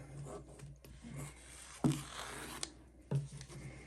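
Scissors snip through embroidery stabilizer still attached to its roll, giving a few brief, faint cuts against a quiet room.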